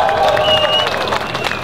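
Crowd applause and cheering at an outdoor car burnout event, loud and close with dense clapping, shouts and voices mixed together.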